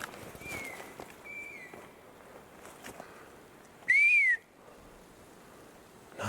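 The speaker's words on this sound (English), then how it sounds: "I just happen to be bombarded and surrounded with whistles." Outdoors, faint thin whistles drift in at first, then one clear, loud, rising-and-falling human-like whistle stands out for about half a second over quiet background rustle and soft steps.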